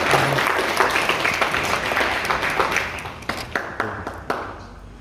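An audience at a church ceremony claps, a burst of applause that thins into scattered individual claps toward the end, fairly close and loud.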